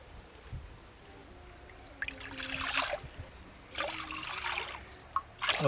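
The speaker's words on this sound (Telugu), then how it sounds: "రెండు గ్లాసుల పిండికి మూడు గ్లాసులు నీళ్ళు పోసుకుంటున్నా" Water trickles and pours in a few short bursts into ragi (finger millet) flour, moderately close, with quiet pauses between the pours and no one talking.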